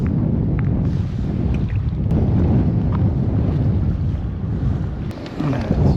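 Steady wind gusts buffet the microphone while kayak fishing on a south shore bay, a loud continuous rumble with faint water and gear noises.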